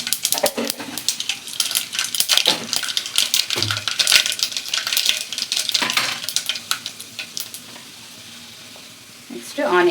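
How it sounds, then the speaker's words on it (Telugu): Tempering seeds crackle and sizzle in hot oil, with sharp popping bursts over a steady fry that eases off toward the end. "ఆయిల్ హీట్ అయింది, కొన్ని తాలింపు గింజలు వేసుకుందాం."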